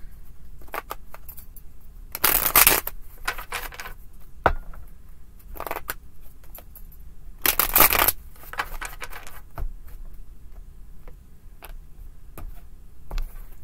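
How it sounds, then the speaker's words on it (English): Several bursts of tarot card shuffling, two long riffling runs standing out among scattered soft clicks and taps, close and quiet with no voices. "Two more shuffles, and I think we'll have it."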